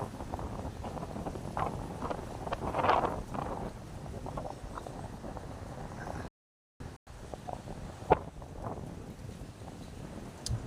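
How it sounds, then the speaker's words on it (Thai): Strong wind blows on the shore of Nong Han lake at Don Pho island, buffeting the microphone with a rough, continuous rumble and gusts, broken once by a brief dropout. "ลมแรงมากครับ ลมแรงแรงจริงๆ"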